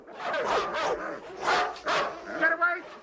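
Several dogs bark and yip excitedly at close range in a dramatic scene, their barking mixed with a raised human voice throughout.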